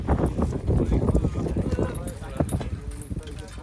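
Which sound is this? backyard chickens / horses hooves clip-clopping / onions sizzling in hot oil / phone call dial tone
horses hooves clip-clopping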